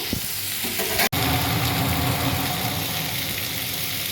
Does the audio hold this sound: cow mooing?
no